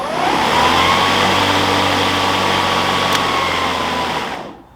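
A Kobalt 40V battery lawn mower motor spins up and runs with a steady, fairly loud whine and hum, holding constant before cutting off abruptly at the end.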